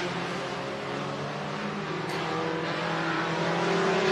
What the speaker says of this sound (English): Here comes our third group out. The 17 cars have checked in today for this group